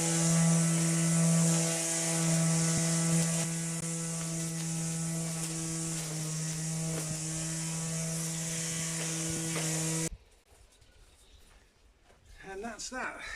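A buzzing garden trimmer runs steadily at close range while cutting growth in a Kefalonian garden, then cuts off abruptly, leaving faint outdoor ambience.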